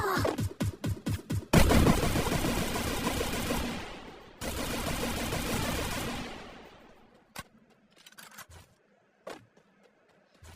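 Free Fire gunfire: a quick burst of rapid shots, then a long loud roaring spray of automatic fire that cuts off and restarts, fading into a few scattered sharp pops and clicks.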